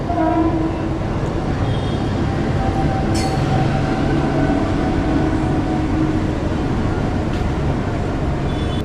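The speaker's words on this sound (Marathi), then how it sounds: "इथून भरपूर ट्रेन येतात जात आहेत बघा" Mumbai suburban trains rumble past steadily near Dharavi with a continuous low roar of wheels on rails, a faint distant horn-like tone and occasional brief squeals.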